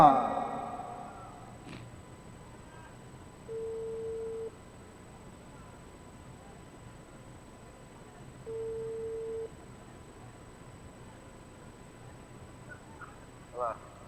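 A telephone ringback tone plays over the line during a prize-draw call for a 150cc motorcycle: two steady one-second tones about five seconds apart, faint over a low background hum.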